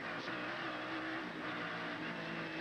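Several 1990 SCCA Trans-Am race cars bunch up three wide into a corner on the Des Moines, Iowa street course, a loud continuous engine roar with layered shifting tones.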